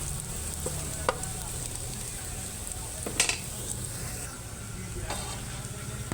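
Spices and aromatics browning in a pan for chicken adobo give off a steady, close sizzle with a few brief scraping stir clicks over about six seconds; nobody speaks.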